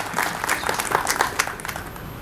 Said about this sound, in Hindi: इनके लिए भी जोरदार तालियां हो जाएं